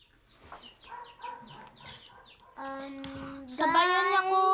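A chicken clucks in a series of short soft calls, then louder drawn-out squawking cackles build toward the end, heard up close.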